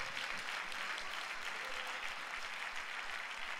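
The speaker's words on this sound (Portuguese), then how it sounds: "dá um aplauso ao Senhor" A church congregation at a pastors' gathering applauds steadily, a dense wash of many clapping hands held at even loudness throughout.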